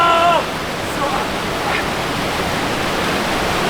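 Icy mountain stream water below the Zugspitze, a loud steady broadband rush close to the microphone, with a brief voice at the very start.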